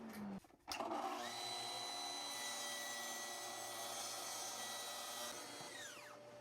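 A track saw cuts through a panel. Its motor spins up sharply, holds a steady, even whine for several seconds, then winds down, all fairly quiet and alone.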